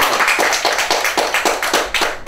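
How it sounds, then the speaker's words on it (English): Rhythmic clapping at a CSEC graduation awards ceremony, sharp regular claps in steady unison, close and loud throughout. "Round of applause, this is for you."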